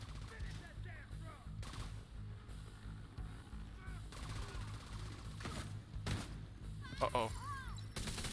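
Machine gun fire in the Division 2 video game, sustained rapid bursts of automatic shots with scattered single cracks, fairly quiet and continuous under game sounds and occasional speech.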